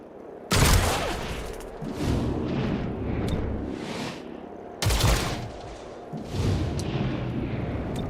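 Video game gunfire in Chimera Squad: two loud broadband bursts of shots and impacts, each followed by rumbling, clattering combat noise, with no talking.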